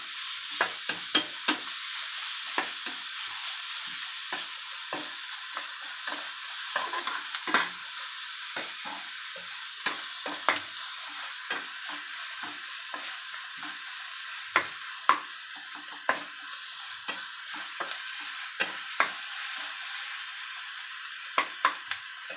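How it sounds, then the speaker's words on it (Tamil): Onions and tomatoes sauté in hot oil for a village-style prawn thokku, a constant close sizzle with frequent scraping stirs of a spoon against the pan throughout. "வெங்காயத்தை நல்லா வதக்கி பிறகு தான் தக்காளி போடணும்"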